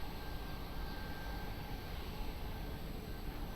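A jet airliner taking off at Lisbon Airport, a steady broadband roar heard from a distance with a faint high whine on top, continuous and unvarying, no voices.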